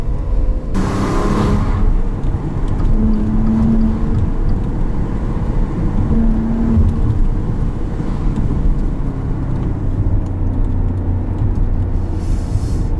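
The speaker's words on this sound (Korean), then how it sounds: "배기 사운드가 실제로 굉장히 커요." A steady low engine drone and exhaust rumble fill the cabin of a Maserati Levante S while driving, with occasional faint tonal hums rising above the constant road noise.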